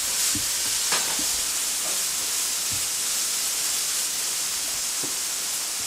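Green, purple and yellow onions stir-frying in a hot pan for chicken chow mein, a steady loud sizzle and hiss with occasional light stirring clinks, no talking.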